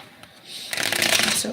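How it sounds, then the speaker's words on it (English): Tarot cards are shuffled close up during a live reading, a quick run of riffling flutters building after a softer handling sound, with no voice over it. "Into 2 more shuffles, they're telling me."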